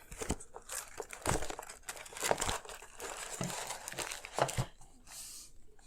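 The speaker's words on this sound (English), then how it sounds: "So let me just find that envelope." A paper cash envelope is handled and rustled up close, giving repeated crinkling and crackling bursts over about six seconds with no talking.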